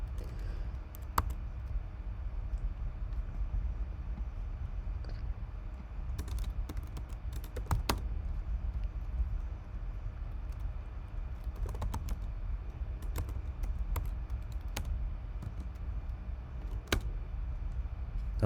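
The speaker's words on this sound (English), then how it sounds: "The majority of this video is just me typing out stuff" Computer keyboard typing while working through coding problems, a steady stream of quick clicks and clacks with occasional louder key strikes, close and continuous over low room hum, with no talking.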